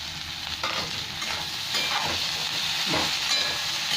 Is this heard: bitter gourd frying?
yes